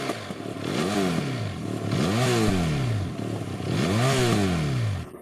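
A Benelli Leoncino motorcycle engine revs three times in quick succession, each rise and fall sweeping up and back down, loud and close with a steady engine drone between the revs and no talk.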